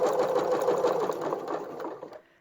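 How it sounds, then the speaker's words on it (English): A sewing machine stitching a cloth mask runs in one continuous, loud whirring burst of rapid needle strokes for about two seconds, then slows and stops. "do a little back stitch to lock that in, and then just zoom around"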